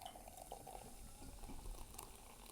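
Fizzy ginger drink pours from a small bottle with a soft, continuous bubbling hiss and faint liquid splashing, quiet and close, with no talking.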